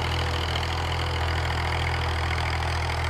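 A 1989 Massey Ferguson 240 tractor engine runs at a steady idle-like throb, close and continuous, with a low rumbling tone and no voices over it.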